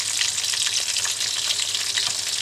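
Steady, dense crackling and sizzling of flour-coated eel frying in hot oil, loud and close, with no voices.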